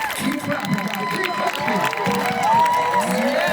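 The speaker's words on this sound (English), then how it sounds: "Keep clapping, guys." A packed fitness-class crowd keeps up dense clapping and cheering for a celebrity trainer, steady and loud with shouting voices mixed into the noise.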